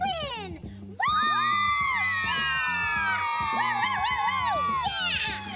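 A group of children cheer, whoop and shriek excitedly for a hockey skates storybook, their voices swooping up and down over a rhythmic music bed after a brief dip at the start.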